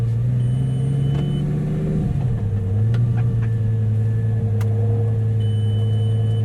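A homemade turbo Lamborghini engine idles with a steady low hum, briefly dipping in pitch around two seconds before settling back into a smooth, continuous drone heard up close with no talking.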